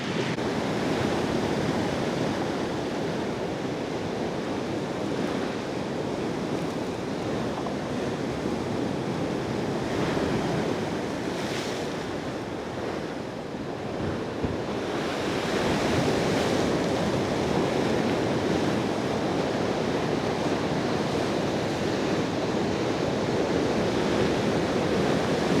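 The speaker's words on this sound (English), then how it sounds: "show you just how powerful the North Sea can be" Powerful North Sea waves at Cromer, Norfolk on a cold winter day, a loud continuous roar of surf breaking and washing in, with heavy wind buffeting the microphone throughout and no voices.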